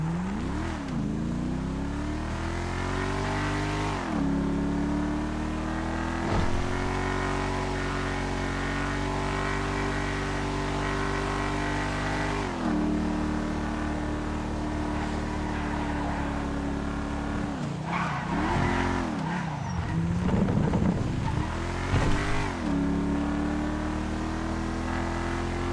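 Paragon R car in a video game, engine revving continuously with rising and falling pitch through gear shifts, loud and steady for about 26 seconds with no talk.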